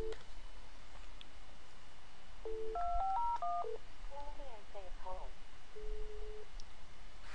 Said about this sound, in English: If I dial 2500,